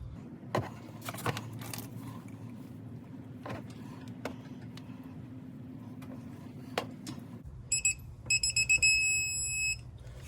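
Electronic torque wrench on a Lexus GX470 wheel stud giving a rapid burst of sharp, loud beeps near the end, after several clanks of metal tools.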